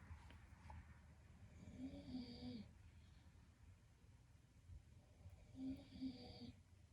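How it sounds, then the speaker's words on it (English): A pet breathes heavily, giving two rasping, snoring breaths a few seconds apart, soft and close, with faint background noise and no speech. "Now she's just being a heavy breather."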